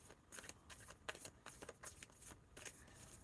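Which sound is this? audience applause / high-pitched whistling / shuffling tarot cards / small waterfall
shuffling tarot cards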